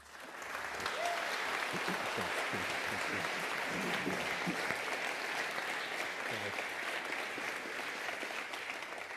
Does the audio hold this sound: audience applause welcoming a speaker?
yes